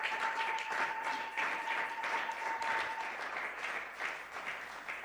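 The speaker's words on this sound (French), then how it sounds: "Est-ce que tu peux acclamer très fort pour la gloire de Jésus?" A church congregation at a Sunday praise and thanksgiving service applauds loudly and steadily, sustained clapping from a large crowd with a faint steady tone running beneath for the first few seconds.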